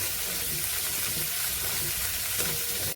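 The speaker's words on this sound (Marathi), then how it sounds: "काळे वाटाणे, आपले चणे आणि लाल चणे एवढे कडधान्य फक्त आपण घालूया आणि हलकंसं परतून घेऊया." Sprouted black peas, chickpeas, red chickpeas and rajma are sautéed in a pan, giving a continuous close sizzle with light stirring scrapes throughout.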